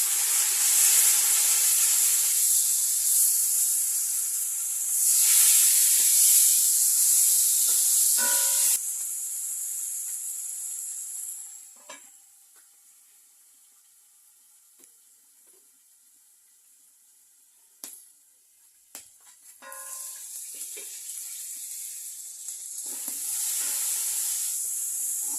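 Tomatoes fry in a pan over a village cooking fire with a loud, steady hiss and sizzle. It fades to near silence midway, with a few small clinks, then the sizzle swells back at the end.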